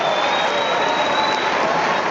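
A large crowd applauding and cheering as the World Barista Championship winners are announced on stage, a dense, steady wash of clapping and shouting with no break.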